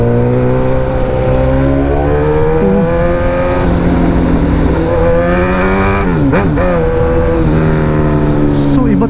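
A Suzuki GSX-S1000 motorcycle engine runs close and loud on a first ride, its steady droning note rising and falling with throttle changes, a sharp blip near the middle, while someone talks over it.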